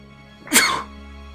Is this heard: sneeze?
yes